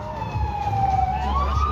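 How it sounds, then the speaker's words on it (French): A wailing emergency siren, probably a police car, on a road during a Halloween road trip in Aquitaine, rising and falling in pitch, fairly close and loud over a low vehicle rumble, with no one speaking. "je connais cette sirène"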